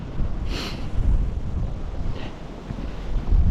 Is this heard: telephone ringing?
no